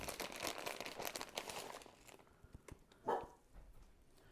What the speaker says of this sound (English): And she's probably going to bark like crazy because I hear someone coming in.